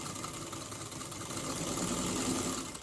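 Sewing machine stitching quilt fabric to the end of a seam, a steady close mechanical whir with fast even needle ticking that swells slightly louder toward the end, with no talking.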